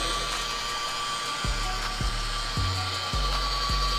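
Rotary polisher with a flat pad runs at 600 RPM on car paint, a steady close motor whir with a few rhythmic low thumps as the pad moves across the panel, no voices.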